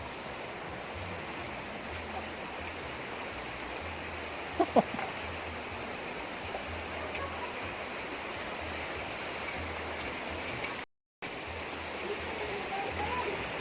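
Water rushing down a stream near a hanging bridge, a steady broadband roar of flow that continues throughout, with a couple of faint knocks and a brief dropout near the end.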